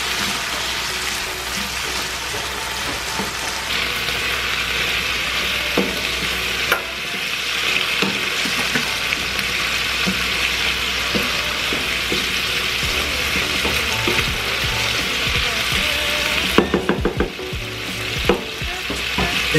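Food cooks in a pan with pepper added, a continuous close sizzle and crackle with occasional stirring clicks and scrapes throughout.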